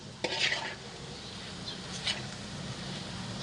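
A soft, steady sizzle of food frying in a pan, with a couple of brief scraping stirs. No voices.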